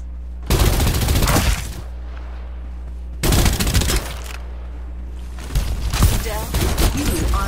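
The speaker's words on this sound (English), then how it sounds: "Exchanging fire!" Bursts of rapid gunfire in a video game firefight, three loud volleys of several shots each, separated by brief pauses over a steady low hum.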